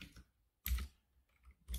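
A few close, quiet keystrokes on a computer keyboard, clicking in short separated bursts as a hostname is entered during a Void Linux install.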